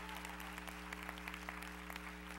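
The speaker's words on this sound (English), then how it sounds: "clap fast, please" A church audience claps rapidly and continuously in a steady patter of many hands, heard over a low electrical hum.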